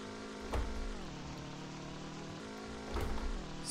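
In the video game My Summer Car, an abandoned car's engine revs up steadily under acceleration with a rising hum, broken by two brief thumps that sound like gear shifts. It is fairly quiet, with no talking.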